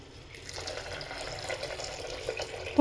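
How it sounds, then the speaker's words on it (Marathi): Hot water is poured into a pan of spiced masala with green peas, giving a soft, continuous trickling splash at fairly low volume for a few seconds. "आता आपण याच्यात ना गरम पाणी घालून घेऊ."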